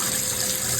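Water gushing at mains pressure from an opened plumbing pipe during an installation, a steady loud hiss with no break over a short moment.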